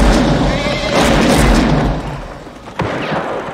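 A gunshot in the 1976 western film The Outlaw Josey Wales booms loudly over a rumbling film soundtrack, followed by a sharper crack and reverberant tail.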